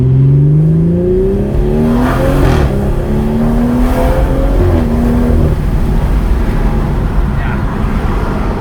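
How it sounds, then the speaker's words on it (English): BMW M240i exhaust crackling with pops and bangs as the engine note falls off throttle, loud and close from inside the car, with several sharp bursts over a droning engine. "Oh, the pops and the bangs."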